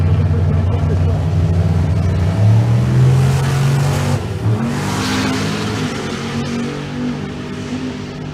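Two drag cars, a Plymouth and a Chevrolet Silverado, launch side by side down a quarter-mile strip, their engines roaring loud and close before dropping away as they pull off. Commentary runs over the engine noise.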